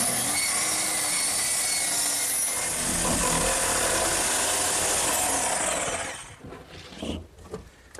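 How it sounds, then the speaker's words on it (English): A hand saw rasps through a wooden seat with continuous strokes while cutting a hatch for a hearthside settle, then stops abruptly near the end, leaving a few faint knocks. "now all that's left to do is cut the hatch in the seat"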